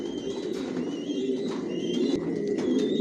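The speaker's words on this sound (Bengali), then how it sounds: "টপ কোয়ালিটির কবুতর পালি" Racer pigeons, including imported tiger grizzle racers, coo steadily in a loft, a low continuous murmur of overlapping calls close by, with a few faint higher chirps above it and no talking.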